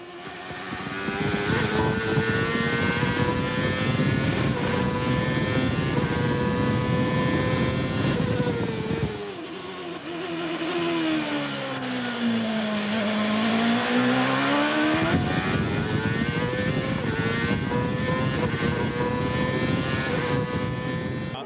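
Onboard engine of a 2001 CART race car at speed, a loud continuous high-pitched scream that dips briefly through a downshift and slower section around the middle before climbing back to full throttle.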